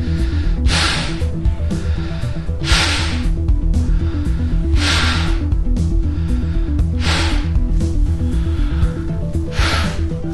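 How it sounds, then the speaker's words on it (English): Slow breathing through a close-fitting face mask with glasses worn, five or six loud, rhythmic breaths at about two-second intervals, each a close, airy rush against a steady low hum. "Glasses on and the breathing test."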